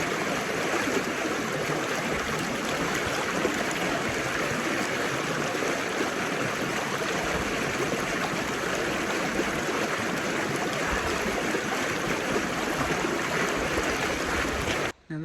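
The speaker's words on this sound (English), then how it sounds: "Just decided to have a little sit down at the river here, clean off my shoes a little bit." A river flows steadily past a hiker resting on its bank near Los Angeles, a close, continuous rushing and babbling of water that stays even in loudness before cutting off abruptly at the end.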